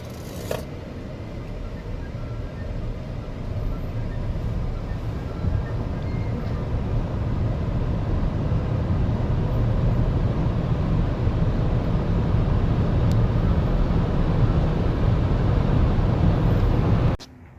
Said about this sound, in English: Here's the acceleration on the new E-Tron.